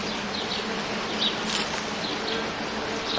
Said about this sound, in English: This is a peacock tree with bees.